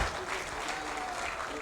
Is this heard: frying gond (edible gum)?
no